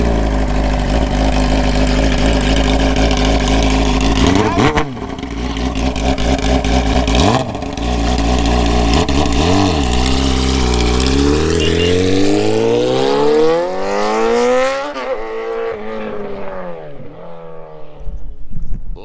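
A right-hand-drive BMW wagon on air suspension fires up and revs loudly, its engine note surging and dropping through repeated throttle blips before settling, close and alone with no talk.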